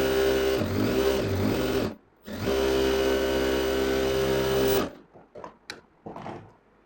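An electric sewing machine stitches a side seam on a round-hemmed dress, motor whirring in two sustained runs with a brief pause between, then stopping into a few light clicks and handling noises.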